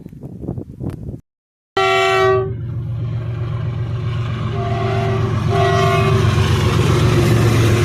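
A train passes close by, sounding long loud horn blasts over a heavy, building rumble of wheels on the rails.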